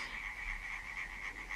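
Frogs croak at night in a dense, continuous chorus, a steady trilling drone with no voices over it.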